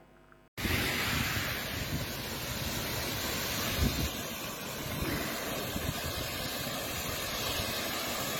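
A burst drinking-water pipe on a highway road near a bridge sprays water in a loud, steady rushing hiss that starts abruptly and continues without a break, with no one speaking.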